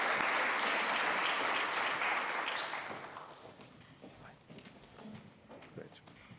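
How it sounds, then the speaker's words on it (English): A conference audience at an energy decarbonisation event applauds the poster presenters with a brief, full round of clapping that fades out after about three seconds, leaving quiet room noise and a few scattered claps. "give those poster presenters a quick round of applause"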